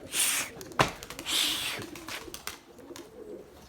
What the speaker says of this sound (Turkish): Bir kanat sesi duyun.